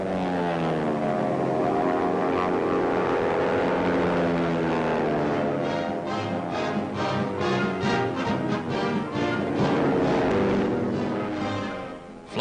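Military propeller airplanes flying in formation in 1942, a loud, steady multi-engine drone with pitch that slowly rises and falls as the planes pass, continuous throughout with no voices.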